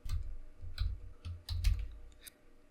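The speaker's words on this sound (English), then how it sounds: "I'm gonna click on this hide and type my own password." Someone types a password on a computer keyboard, a quick irregular run of close, crisp key clicks with no talking.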